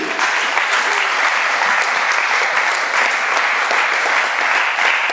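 A church congregation applauds together, dense and steady clapping from a large crowd filling the room at full volume without a break.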